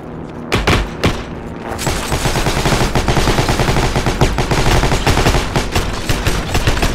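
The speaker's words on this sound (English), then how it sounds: "Oh, I hear bullets. I hear bullets." Dense, continuous gunfire from the video game Heroes and Generals, rapid automatic bursts and booms overlapping throughout, loud and close with no talk.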